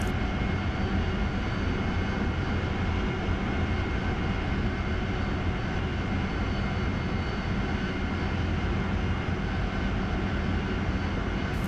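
A Harrier jet climbing in the DCS flight simulator game, a steady, dense engine roar that holds constant and broadband throughout without pauses or voices.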